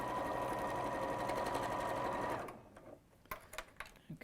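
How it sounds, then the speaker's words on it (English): A sewing machine fitted with a 1/4 inch foot stitches fabric in a fast, steady whirr that stops after a couple of seconds, leaving faint clicks and handling sounds, close and alone. "Because the 1/4 inch foot tends to pull the fabric if you're sewing in the middle of a piece."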